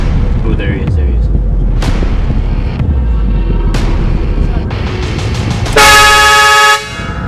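A train horn mounted on a car blasts as a prank: one loud, sustained, brassy honk of about a second near the end, preceded by low road rumble and a few dull thumps.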